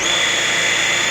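A small electric thruster motor on an H300 MKII remotely operated vehicle whines steadily at high speed during a dry run test, a constant high-pitched hum with no other sounds.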